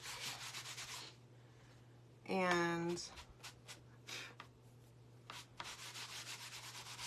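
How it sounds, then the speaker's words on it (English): Rough, rhythmic rubbing strokes of a sanding block on wood, close up, in bursts separated by short pauses, with someone talking briefly in between. "I can always just hit this with a sanding block"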